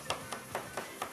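Green pepper chopped finely with a knife on a cutting board, five crisp, evenly spaced knife taps in quick succession, close and clear with no talking.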